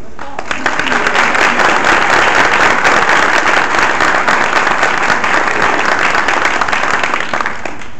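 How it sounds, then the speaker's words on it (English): Audience applause fills a school awards ceremony honoring students, a dense, steady wash of many hands clapping loudly for the full length without letup. "So let's give them a round of applause."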